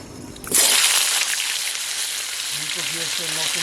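Cauliflower pieces drop into hot oil with a sudden loud hiss that settles into a steady, close sizzle, and a faint voice murmurs near the end.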